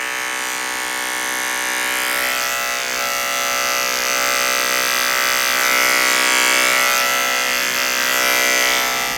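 Electric hair clippers buzz in a loud, sustained whine while cutting curly hair for a drop fade, pitch wavering slightly as the blades move through the hair.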